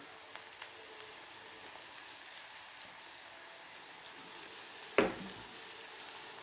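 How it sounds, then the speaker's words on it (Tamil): Onions frying in a pan with salt and turmeric give a quiet, steady sizzle, with one short clink of a utensil near the end. "வெங்காயம் ஓரளவு வதங்கிஇருக்குங்க"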